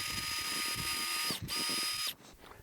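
A power drill with a 1/8 inch bit boring pilot holes for number 10 screws, a steady high motor whine running about two seconds, briefly dipping once, then stopping abruptly.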